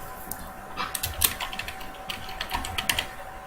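Rapid, irregular clicking of keys on a computer keyboard, close and clear, a steady run of light taps with a few louder strokes and no talking.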